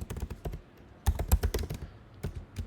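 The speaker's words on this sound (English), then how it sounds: "I'm just gonna type this out." A computer keyboard is typed on nearby in short uneven bursts of crisp key taps, with brief pauses between runs.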